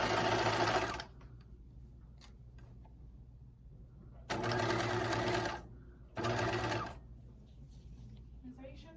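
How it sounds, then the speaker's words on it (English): Sewing machine stitching a pocket onto a fleece pullover, running in three loud bursts of rapid stitching separated by quiet pauses, close by, with no talking. "I'm going to sew down to this circle right here."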